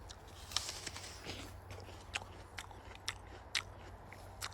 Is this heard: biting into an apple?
yes